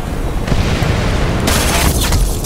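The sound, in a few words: grenade explosion in the video game Ghost Recon Phantoms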